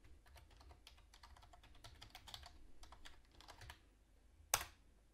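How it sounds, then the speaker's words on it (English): Quiet typing of a title on a computer keyboard, a rapid run of soft key clicks that pauses before one sharp louder click near the end. "Type in the title and click OK."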